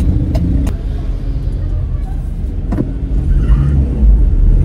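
An old car's engine runs with a steady low rumble close by, fairly loud and continuous, with a few sharp clicks early on and the rumble swelling slightly toward the end.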